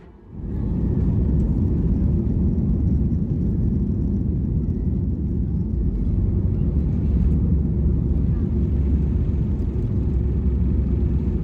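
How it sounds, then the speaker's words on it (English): A TUI Boeing 737 MAX powers up for takeoff from Manchester, heard from inside the cabin as a loud, deep, steady engine roar that swells quickly and holds throughout. "ready for takeoff on runway 23 left, getting us on our way down to Ibiza"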